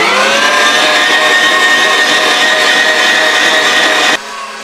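Electric meat grinder mincing onion, garlic, meat and lard, a steady loud motor whine with a constant pitch running for several seconds, then abruptly dropping to a quieter hum near the end.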